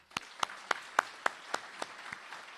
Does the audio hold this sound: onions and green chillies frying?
no